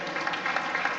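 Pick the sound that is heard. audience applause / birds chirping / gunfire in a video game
audience applause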